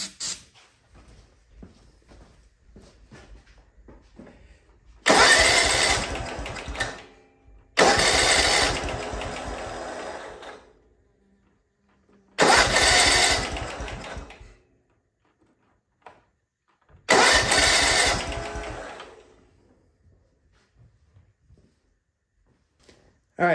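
A riding lawnmower engine that won't start cranks over in four loud, long bursts of several seconds each after starting fluid is added, with quieter gaps between them.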